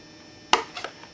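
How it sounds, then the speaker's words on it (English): Scissors trim craft material for a red Angry Bird figure in one sharp close snip followed by a couple of smaller quick cuts, alone without talk. "want to trim these a bit, just like this"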